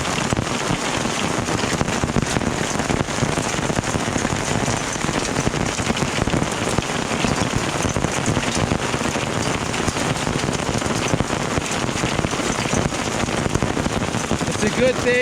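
Hail and rain pound on tarps covering a Jeep during a storm, a dense, loud, continuous patter of hard impacts with no letup, heard close by.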